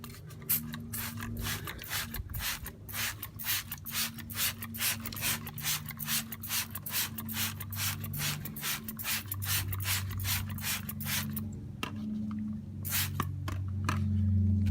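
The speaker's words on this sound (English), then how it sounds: "I'm going to go ahead and spray the whole entire tire" Rapid, rhythmic hissing squirts from a trigger spray bottle spraying cleaner onto a car tire, dozens in a row, close by over a low background hum.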